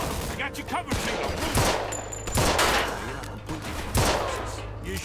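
Gunfire in the Mafia II: Definitive Edition video game, with repeated sharp gunshots and bursts of fire cracking out over about five seconds amid background game noise, with a voice speaking briefly.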